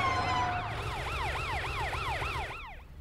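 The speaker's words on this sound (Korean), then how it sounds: "이 소리는 뭐지? 경찰차 매트야." A cartoon police car siren wails in a fast, repeating up-and-down yelp, loud and near, then cuts off abruptly near the end over a low engine rumble.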